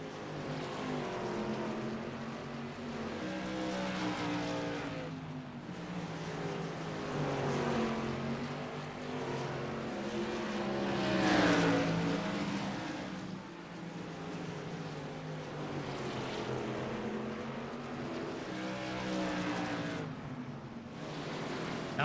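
Modified race cars roar around Concord Speedway in a continuous, rising and falling engine drone, a pack of cars heard at a moderate distance without pause.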